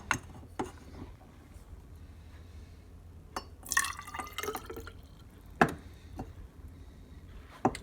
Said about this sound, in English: We're gonna mix a 50-50 solution of water and vinegar.